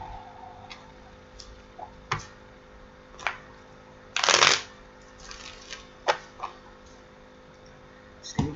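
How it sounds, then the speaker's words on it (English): A deck of tarot cards is shuffled at a table in soft, intermittent riffles and taps, with one louder, fuller shuffle burst midway, in an otherwise quiet room. "Just gonna give the cards a shuffle here while we're waiting."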